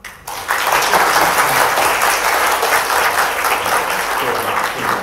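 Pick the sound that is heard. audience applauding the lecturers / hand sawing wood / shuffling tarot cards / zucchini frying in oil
audience applauding the lecturers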